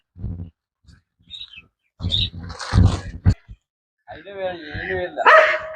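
A dog on a farm in Kerala gives a few short barks scattered between people talking nearby.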